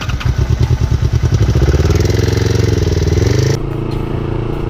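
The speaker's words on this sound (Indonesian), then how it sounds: "cek suara mesin apakah ada ngelitik." An older Yamaha R25 parallel-twin sport motorcycle runs loud and close as it is checked for engine knock, pulsing quickly as it revs up and then settling into a steady, slightly clattery idle.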